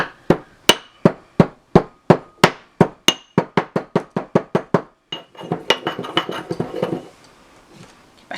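Whole cloves pounded into powder for medieval lemon cakes, a steady run of sharp, close strikes that speed up before breaking into looser, scraping grinding.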